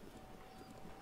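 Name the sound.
horse hooves clip-clopping on a road in a video game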